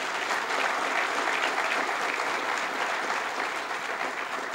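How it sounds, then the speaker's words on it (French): An audience at an inaugural lecture on planning applauds, a steady, even roar of many hands clapping that fills the room without a break. "s'il vous plaît, applaudissez"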